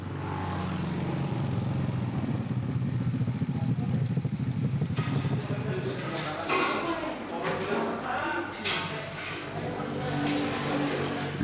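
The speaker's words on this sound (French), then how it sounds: "un balai incessant de motos transportant jusqu'à plusieurs dizaines de litres" Many motorcycles hauling tens of litres of milk to a dairy cooperative in Java ride past in a steady, busy stream, engines puttering close by with clattering, under a noisy mix of voices and traffic.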